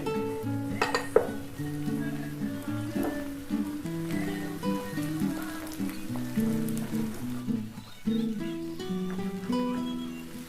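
Potato bhujia with eggs is stirred and mixed in a pan, a close series of scraping and clinking spatula strokes against metal over a low sizzle, rhythmic and busy throughout.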